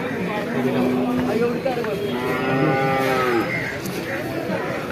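A Jafarabadi buffalo lows loudly at a livestock market, one long drawn-out call rising over busy crowd chatter and nearby voices.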